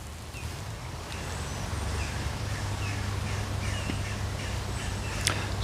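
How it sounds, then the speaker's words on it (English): Outdoors in the small rural town of Market Bosworth, crows caw and smaller birds chirp intermittently at a distance over a steady low background hum. "lovely bird song I can hear as well"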